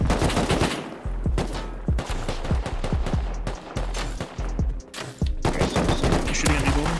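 Rapid video game gunfire in bursts of many sharp, loud shots, with brief gaps between volleys and faint voices in the background.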